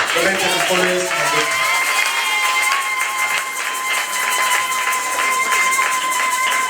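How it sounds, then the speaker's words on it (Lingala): A congregation at a Sunday church service cheers and claps together, a steady dense crowd roar with applause throughout, loud and continuous, with voices calling out within it. "Acclamons pour le roi de Dieu"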